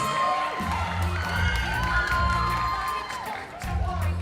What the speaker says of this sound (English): And a big round of applause for our 5 nominees.